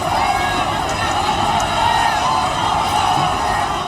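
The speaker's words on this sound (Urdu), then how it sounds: "لاکھوں کے ہجوم میں موجود افراد آغا جان سے محبت میں نعرے لگاتے رہے" Huge funeral crowd of mourners chanting slogans, a dense, continuous wall of massed voices that stays steady and loud throughout, with cheering-like shouts mixed into the roar.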